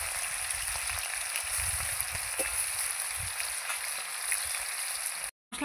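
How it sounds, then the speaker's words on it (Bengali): Chicken meat fries in hot oil the way fish is fried, giving a steady close sizzling hiss with scattered crackles, briefly cutting out near the end. "যেভাবে মাছ ভেজে নেয় আমিও সেভাবে মাংসগুলোকে ভেজে নেব।"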